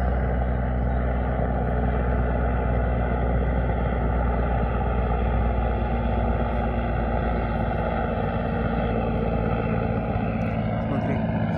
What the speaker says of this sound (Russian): Смотри, вертолет еще летит.